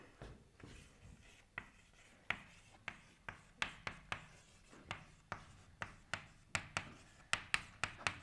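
Marker strokes on a board during a university machine learning lecture: a run of sharp, irregular taps and short scrapes, close and fairly quiet, with no talking.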